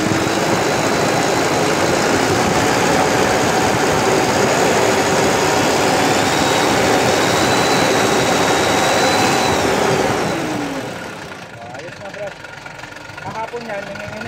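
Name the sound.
FAW truck engine revving under accelerator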